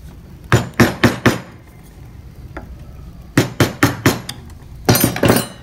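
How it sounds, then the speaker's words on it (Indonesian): Repeated sharp taps of a mallet striking a chisel while carving wood, landing in tight bursts of three to four knocks separated by short pauses, close and fairly loud with no talking. "Kemudian di bagian sebelah ini kalian bisa dirapikan menggunakan pahat kol."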